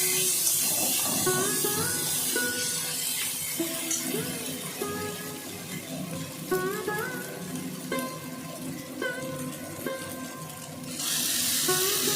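Onion fries in a pan with ginger-garlic paste, a steady bright sizzle and hiss that runs throughout while someone talks over it in a home kitchen.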